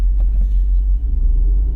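2022 Jeep Wrangler 392 with a V-8 and 8-speed ZF automatic, driving on a road, giving a deep, steady engine rumble close up with no talking.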